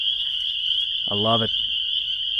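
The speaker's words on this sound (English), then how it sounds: "You just sit out here and listen to the frogs." On a spring evening, a chorus of frogs keeps up a continuous high trilling drone throughout, while someone speaks briefly over it.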